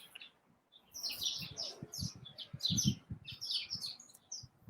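Small birds chirp and tweet in a quick, irregular series of bright calls, fairly close and clear, with a faint low murmur beneath.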